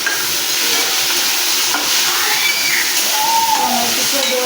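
Tomatoes added to onions fried until reddish-brown, a continuous loud sizzle with stirring scrapes in the pan, close and steady, while a voice speaks briefly over it.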